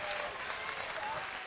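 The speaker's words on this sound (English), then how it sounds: "can you please give a round of applause for our girls working hard for you all night?" Audience applause at a Battle MMA Championships event in the Penrose Event Center, Colorado Springs, a steady dense wash of clapping filling the hall throughout.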